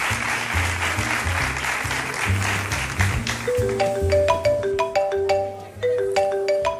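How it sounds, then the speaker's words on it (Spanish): A mobile phone ringtone rings out over a studio audience's applause at a live television comedy show, its bright repeating melody starting partway through and continuing to the end. "Otra vez el móvil de alguien del público, ¿no? Ah, no, es el mío."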